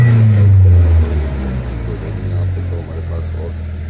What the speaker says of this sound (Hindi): अभी गाड़ी बिल्कुल सही स्टार्ट हो रही है